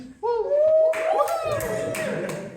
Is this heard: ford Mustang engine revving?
no